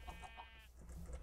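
A cow mooing in modded Minecraft: two short, faint, tonal calls in quick succession, with soft background hum.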